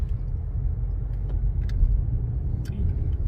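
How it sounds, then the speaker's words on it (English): A car's engine and road noise rumble steadily from inside the cabin during a ride, a constant low drone with faint small clicks and rattles, with no talking. "Lendy's giving me a ride in his car."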